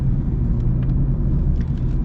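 Inside a 2026 Honda Civic LX with the entry-level powertrain, a steady low engine and road rumble fills the cabin at a smooth cruise, even in level, with no talking.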